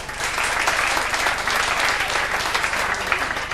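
Steady, dense applause from a live audience at a comedy-variety show stage performance, continuous clapping throughout with no voices standing out.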